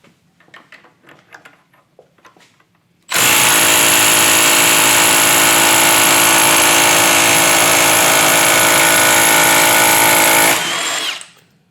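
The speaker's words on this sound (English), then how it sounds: "Will our Milwaukee Fuel M12 3/8 inch Stubby Impact break it loose?" A Milwaukee M12 Fuel 3/8 inch stubby impact wrench (2554-20) hammers loudly and steadily for about seven seconds to break a torqued bolt loose, after a few quiet handling clicks, then winds down abruptly.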